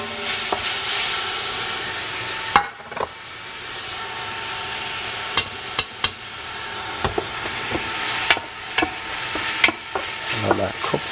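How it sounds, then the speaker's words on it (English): Ginger, seasoning, cilantro and celery fry in a pot for pepper pot, a continuous bright sizzle with occasional clacks of a spoon stirring, close and alone. "I'm going to fry this a little bit."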